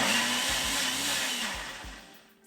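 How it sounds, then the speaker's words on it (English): A countertop blender whirs in several short pulses as it purees blanched onions into a paste, the motor surging and dipping before winding down to quiet. "we're going to go ahead and zap them in a blender real quick"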